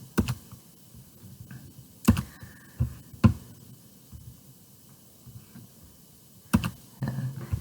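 Keys clack on a computer keyboard while a Google Form is filled in: sparse, close, fairly soft bursts of clicks with quiet gaps between.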